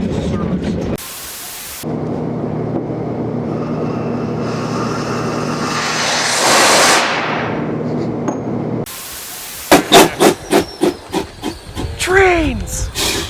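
Loud hissing of steam from Rio Grande Southern locomotive No. 20 in the snow at Durango, with a rising whoosh midway, followed by rhythmic chuffing puffs and a squealing tone near the end.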